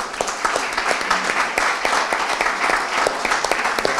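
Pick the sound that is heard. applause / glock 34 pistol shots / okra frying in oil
applause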